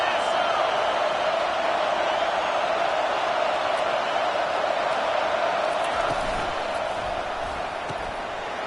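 A raucous football stadium crowd cheers and roars nonstop at a penalty kick, a loud, sustained wall of noise with faint talk underneath.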